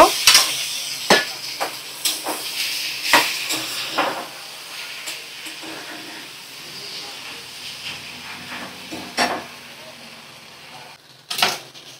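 Boiled soybean chunks tossed into a hot pan of sizzling spiced masala, a steady hiss and fry with scattered clatters and stirring scrapes, close and fairly loud.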